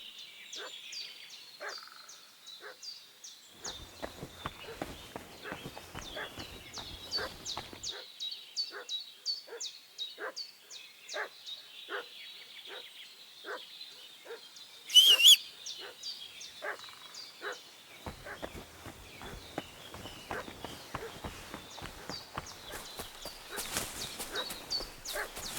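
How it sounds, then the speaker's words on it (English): A dog in a village in Kingdom Come: Deliverance 2 barks over and over at a moderate distance. The short, sharp yaps come in a regular rhythm, with game ambience around them and one louder bump midway. "I hear a dog."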